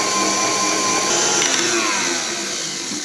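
An electric mixer whisks a British dessert mixture with a loud, steady, high motor whine that holds nearly constant, easing slightly toward the end, with no talk.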